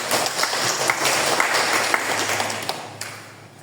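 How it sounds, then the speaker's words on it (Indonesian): Applause at a youth organization training event held by a regional youth and sports office, a dense burst of many hands clapping indoors that gradually thins and fades out over a few seconds. "berikan aplaus untuk dinas pemuda olahraga"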